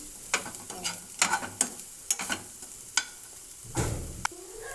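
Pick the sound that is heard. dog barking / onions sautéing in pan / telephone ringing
onions sautéing in pan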